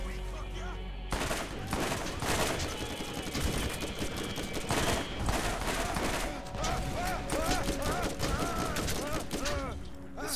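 Rapid, dense pistol fire in the Borderlands shooter on Xbox One, shots crackling in quick bursts over a game soundtrack for about ten seconds.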